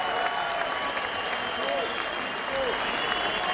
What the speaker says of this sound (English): And the applause here at the Odyssey Arena reflects that.